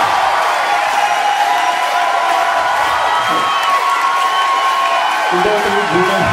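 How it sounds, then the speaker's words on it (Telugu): Audience applause and cheering at a college freshers' party in Manikonda, a dense, steady wash of clapping and whoops that continues throughout with a few shouts near the end. "ఒకసారి బిగ్ క్లాప్ సార్."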